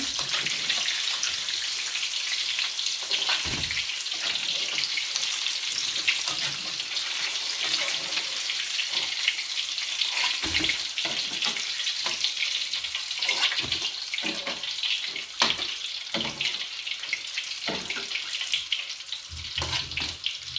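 Pastels fry in hot oil with a continuous crackling sizzle, punctuated by irregular pops and bursts throughout.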